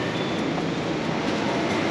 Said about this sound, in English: This particular line has quite short trains in comparison to the others.